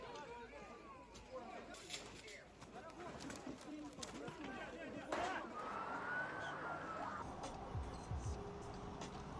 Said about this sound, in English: Ukrainian firefighters and ambulances race to the scene